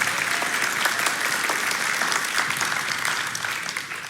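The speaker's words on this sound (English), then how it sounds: "And so, you can clap for Lindsay" Church congregation applauding during a Sunday service, a dense, even wash of many hands clapping that fades slightly toward the end.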